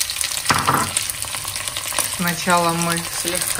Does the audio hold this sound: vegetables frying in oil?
yes